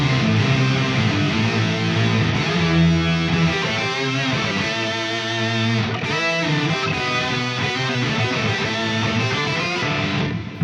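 Electric guitar played through a Zoom 505 effects processor with an octave and distortion effect, giving a thick, continuous, heavily saturated tone with shifting notes, loud and uninterrupted throughout.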